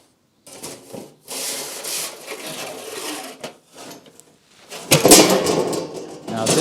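A 1.5 mm aluminum sheet is cut during an MGA repair, giving a rough, rasping scrape in uneven bursts with short pauses, louder and harsher near the end.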